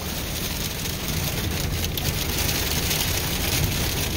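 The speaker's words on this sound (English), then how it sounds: "we just got here and it's literally hailing" Hail falls outdoors in the Lake District, a dense, even patter on the ground and surfaces that holds steady and loud throughout, with no voices.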